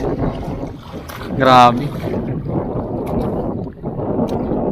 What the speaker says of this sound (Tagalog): sounds ay maingay, gawa ng hangin yan